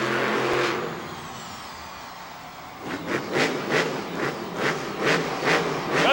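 A monster truck engine at a racing event, first a distant rumble, then revving hard in repeated loud surges that rise and fall, close and powerful.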